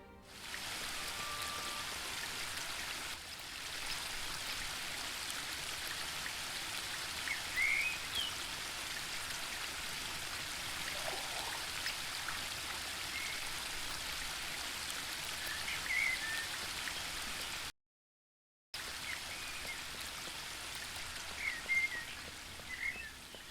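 Steady falling water, rain or a waterfall, in the video game The Book of Unwritten Tales 2: a continuous soft hiss held for over twenty seconds with one brief gap, faint chirps scattered over it.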